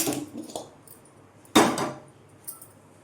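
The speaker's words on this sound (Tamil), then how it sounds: "இப்போ ஃபஸ்ட்டு ஸ்டவ் ஆன் பண்ணி பாத்திரம் வச்சுக்கலாம்" A metal cooking pot set down on a gas stove in a home kitchen, heard as a sharp clanking contact with a few lighter metallic knocks and a later tap, all close and without talk.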